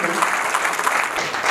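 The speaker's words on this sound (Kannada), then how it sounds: "ಏನು ಸರ್ ಇಷ್ಟೊಂದು ಚಪ್ಪಾಳೆ ಬೀಳ್ತಾ ಇದೆ ನಿಮಗೆ" A seated audience at a panel discussion claps in a steady, dense burst of applause that fills the short moment.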